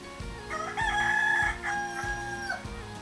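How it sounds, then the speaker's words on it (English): A rooster crows loudly and close by in Tahiti's Water Gardens, a long rising-and-falling call repeated through the clip, with soft thumps and ambient garden noise underneath. "There's a little chicken."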